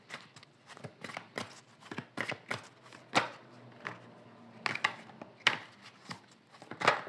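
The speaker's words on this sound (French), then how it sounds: "je vais faire une coupe et je vais prendre 3 cartes" A deck of tarot cards is cut and three cards are drawn, giving a quick run of crisp slapping and flicking snaps, close and fairly quiet, in irregular bursts.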